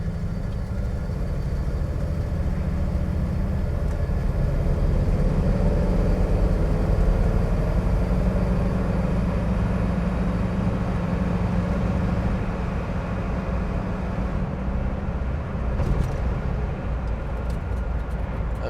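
A 1956 Ford Fairlane Victoria accelerates to about 45 mph, a steady low engine drone and road rumble heard from inside the car, gradually building, with no talking.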